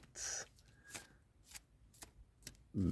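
Quiet, crisp bursts of cards being riffled and tapped, a handful of short ripping shuffles close up, ending with a brief voice.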